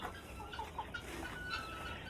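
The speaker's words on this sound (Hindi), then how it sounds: "बैठा हुआ अंडों पे कोई मुर्गी?" Hen clucking softly on a clutch of eggs in a farm coop, a few low, broken clucks over steady background noise, fairly faint and with no talking.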